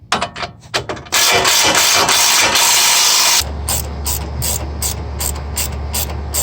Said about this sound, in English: Take off the 3 bolts at the top.